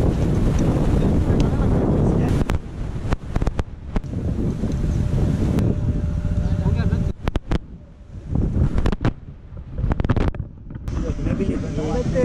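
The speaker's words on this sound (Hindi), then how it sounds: "ये हमारी बोट राइड स्टार्ट हो गई" Wind buffets the microphone during a boat ride on the backwater lake at Bhigwan, with rough gusty rumble and water noise from the moving boat that drops out briefly in a few places.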